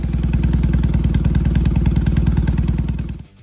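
Motorcycle engine of a 2027 BMW R18 Transcontinental, a big German cruiser, running with a loud, close, steady thumping pulse that holds for about three seconds before cutting off abruptly.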